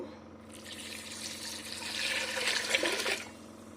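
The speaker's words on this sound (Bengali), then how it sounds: "এটা পানি দিয়ে দেব দু ডাব্বো" Water poured from a small container into a pot of khichuri with turmeric and cumin, a steady splashing pour building louder toward the end before stopping, close and alone.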